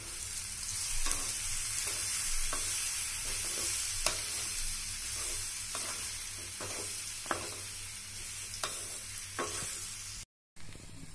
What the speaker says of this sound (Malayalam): നമുക്കിനി പഴം ഇതിലോട്ടിടാം.